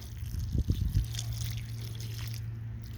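Water trickles and splashes onto carrots in a home garden bed, with a short burst of pouring early on, then a soft, steady dribble over a low background hum.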